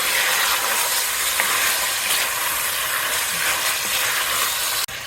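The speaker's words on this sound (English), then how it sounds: "Your heat should be on medium-high, just like this, and give it a good stir." Goat meat sizzles steadily in a pan over medium-high heat while being stirred, a loud continuous frying hiss with faint scraping, ending in a sharp click.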